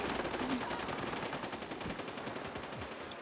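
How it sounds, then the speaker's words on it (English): In Call of Duty: Modern Warfare, rapid automatic gunfire rattles in a steady, evenly spaced stream of fast shots at moderate distance, with no speech. "I'm getting shot from behind"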